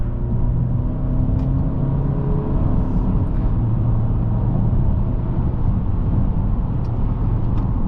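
A 2022 Mercedes GLE 350 luxury SUV with paddle shifters being driven briskly, giving a steady, loud low rumble of engine and road noise that fills the cabin without a break and with no talking.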